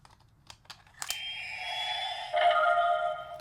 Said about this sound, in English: if you're fast enough putting it in, you'll get the boot up sound